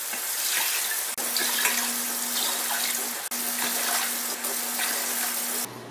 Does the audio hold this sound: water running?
yes